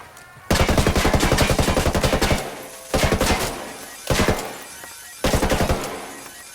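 Bursts of automatic gunfire in the video game Ghost Recon Wildlands: one long sustained volley followed by three shorter rapid-fire bursts, loud and close, with no talking.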